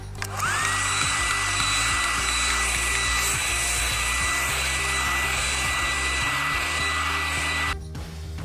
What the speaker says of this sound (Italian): Adesso ti asciugherò con il phon